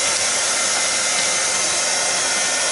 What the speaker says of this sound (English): I'm going to dry this real quick, as soon as I find my heat gun.